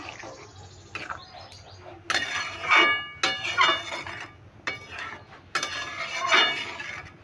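A spoon stirs vegetable dal seasoned with turmeric and salt in a metal pot, making bursts of scraping, clinking and ringing that come in uneven strokes. The sounds are close, with quiet gaps between them.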